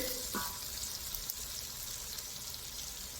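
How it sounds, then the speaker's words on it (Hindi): Red chili powder and spice masala frying in a pan for dhaba-style chana dal, a steady close sizzle with soft crackle and faint stirring throughout, no talk. "अभी इसको ऐसे फ्राई करना है।"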